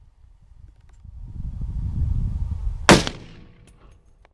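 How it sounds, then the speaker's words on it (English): A single sharp rifle shot cracks out during a free-range bison bull hunt in West Texas, loud and abrupt against a low rumbling outdoor background, followed by a short fading tail and faint scattered ticks. "The bull turns broadside and Jerry makes a great shot."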